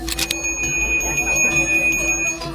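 A genta, the Balinese ritual hand bell, is struck sharply a few times at the start, then rings on with clear sustained tones over a busy background.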